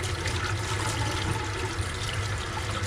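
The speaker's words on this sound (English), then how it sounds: "Got it inside with the warm water," Warm water runs steadily from a tap while a tie-dye shirt is rinsed, a continuous splashing hiss with gurgling underneath, no talking.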